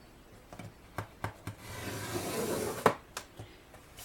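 A tool scores a line across a wooden board, a close, quiet scraping rasp that swells into a longer rub in the middle, framed by several sharp little taps and clicks.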